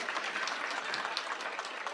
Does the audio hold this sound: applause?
yes